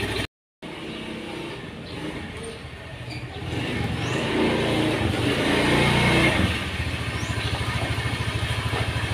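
A Honda Beat scooter engine runs after repair, starting from a short silence into a low idle, then revving louder and dropping back to a steady putter, heard close and without talk.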